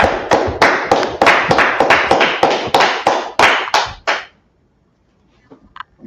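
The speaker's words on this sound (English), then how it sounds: "Clap it up for the class." An audience claps in a burst of rhythmic, loud hand claps lasting about four seconds and then stops abruptly, followed by a few faint scattered sounds.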